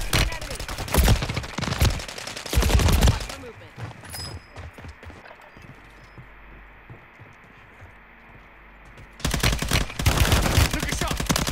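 Bursts of rapid automatic gunfire from a Call of Duty match, loud and close, open and close the stretch, with a quieter lull between them while voices talk over the action.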